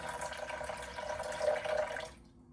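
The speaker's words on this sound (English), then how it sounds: "I'm going to get some water in my jug and put that in" Water pours from a jug into a mix of PVA glue, a steady soft liquid splash for about two seconds that stops abruptly, fairly quiet and close.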